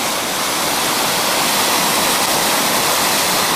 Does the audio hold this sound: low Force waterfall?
yes